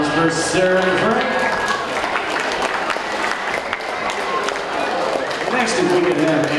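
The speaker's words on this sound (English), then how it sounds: "big round of applause for Sarah and Frank" Applause for a newlywed couple at a wedding reception, a steady wash of clapping from a crowd of guests that runs throughout, with music and voices mixed in underneath.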